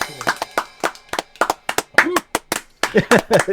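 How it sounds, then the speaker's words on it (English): Scattered clapping from a small group of people, a run of sharp separate hand claps with a voice talking among them. "Thank you for the claps and the lead up."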